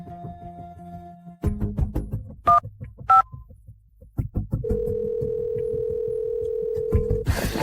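Telephone dialing tones ring out as a phone call is placed, with short beeps and clicks giving way to a long steady tone, the sounds fairly close and clear with no talk.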